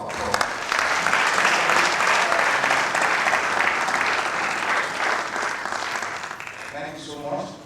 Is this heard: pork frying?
no